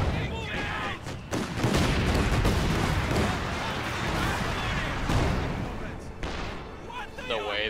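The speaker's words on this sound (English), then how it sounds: "I killed them with my grenade, but they also threw a grenade" Grenade blasts in a Company of Heroes 2 3v3 battle: loud, dense booms and rattling gunfire merge into an almost continuous roar for several seconds, then briefly drop away before another burst.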